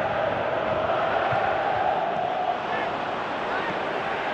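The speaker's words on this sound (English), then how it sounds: "Crowd appreciates good football all round there." A football match crowd gives a steady, even wash of applause and murmuring approval for good play, heard from a distance as a continuous bed of stadium noise.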